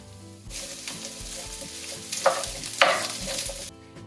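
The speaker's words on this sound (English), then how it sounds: "now I'm going to be adding the onions and the celery, and I will be, and I'll be leaving that to soften for about 5-ish minutes" Onions and celery frying in oil in a pan, a continuous crackling sizzle with a couple of sharper pops and a low steady hum underneath, no talking.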